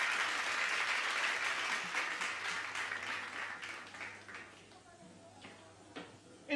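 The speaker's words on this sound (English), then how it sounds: "give another big round of applause" Audience applause and cheering at a live music club, Independent Music Club at The Loft, loud and sustained at first, then thinning to scattered claps toward the end.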